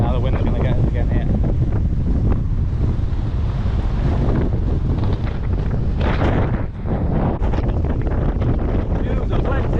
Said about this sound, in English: Now the wind's going to get us again here.